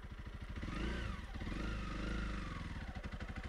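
A lightweight single-cylinder adventure motorcycle, either a BMW G 310 GS or a Honda CRF300L Rally, crawls up a steep off-road section at very low speed, its engine thumping in a steady, close, rhythmic low putter that rises slightly midway.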